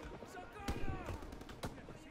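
A couple of sharp gunshots ring out amid game-like background noise in Call of Duty: WWII's Battle of the Ardennes mission, with muffled bursts in the distance and talk-free ambience.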